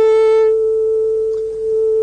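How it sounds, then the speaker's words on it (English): A steady pure sine-wave tone holds at one pitch for two seconds, loud and unbroken, with faint overtones fading out after the first half second and a slight dip in level near the end. "A mathematician might call it a sine wave."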